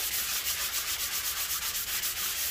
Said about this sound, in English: just get a no cheap sanding sponge and just knock off the edges